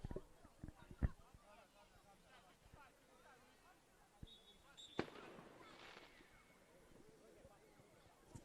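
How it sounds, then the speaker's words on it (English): Fireworks go off in the distance near an outdoor football tournament pitch, with several sharp faint bangs, one loud crack and a brief whistle, all under crowd babble and talk. "if you can hear some noises, some strange bangs, there's a couple of fireworks being let off around the area"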